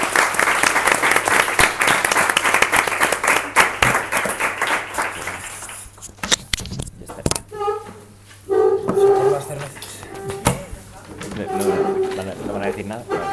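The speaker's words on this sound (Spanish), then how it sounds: "un aplauso para ellos." A studio audience applauds the guests at the close of a panel discussion forum, with loud, dense clapping for several seconds that then thins into scattered claps and voices talking.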